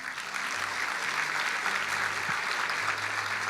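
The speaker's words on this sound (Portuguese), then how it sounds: "Você pode dar um aplauso a Ele?" A church congregation applauds in a steady, even wash of many hands that holds throughout, fairly loud and unbroken.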